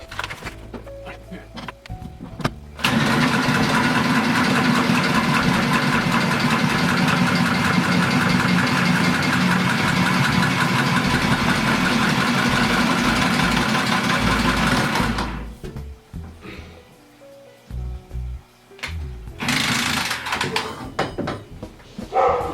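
Milwaukee M12 cordless tubing cutter spinning around a 1-inch copper pipe, a steady loud motor whir held for about twelve seconds, then stopping, followed by clicks and handling noise and a brief second burst of whirring.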